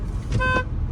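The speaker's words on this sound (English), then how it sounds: "I was making a turn and homie beeped at me." A short, sharp blast of a car horn, a single honk rising out of low road noise nearby on a Baltimore street.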